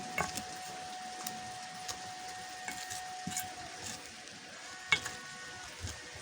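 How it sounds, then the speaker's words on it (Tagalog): Eggplant is stirred in a frying pan, heard as a faint, quiet sizzle broken by occasional light scrapes and taps of a utensil, with no one speaking. "Halo-haloin po na natin yan"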